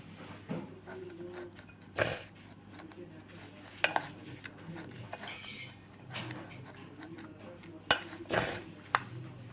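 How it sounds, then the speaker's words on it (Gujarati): Ground spices such as coriander-cumin powder and carom seeds stirred together in a bowl for onion bhajiya batter, with a spoon clinking and scraping against the bowl in irregular close bursts. "હવે બધા મસાલાને આપણે મિક્સ કરી લેશું"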